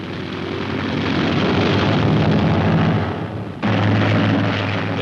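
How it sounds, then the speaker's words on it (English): A Hellcat drone aircraft launched by catapult from the carrier USS Boxer, a loud sustained engine roar and rushing blast that briefly dips then surges back, heard in an old newsreel recording. "The robot missile is catapulted aloft."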